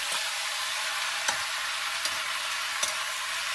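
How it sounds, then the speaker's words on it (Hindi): Vegetables and tomatoes fry in a pan on a wood-fired chulha, making a dense, even sizzle broken by three sharp stirring knocks, with no voices. "और अब डालते हैं सब्जी। अब डालेंगे इसमें टमाटर।"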